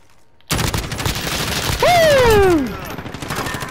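Dense automatic gunfire and booming combat effects from the Call of Duty: Modern Warfare video game, loud and continuous, with a rising-then-falling whistling tone sweeping through the middle.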